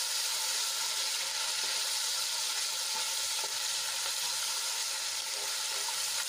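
Ginger, garlic and green chili paste with a few curry leaves sautéing in hot oil in a pan, giving a steady, close, even sizzle with faint stirring scrapes throughout and no voices.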